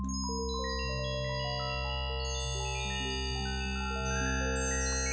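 Synthesizer particle generator played solo, randomly picking partials that ring out as bright chiming tones stacking over a steady low drone, continuous and fairly quiet.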